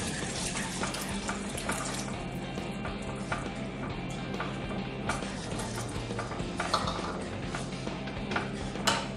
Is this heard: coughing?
no